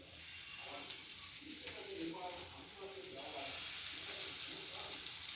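Pieces of paneer coated in masala sizzle and fry in hot oil in a pan, a steady close crackle with faint scraping as they are turned, and a voice talks over it.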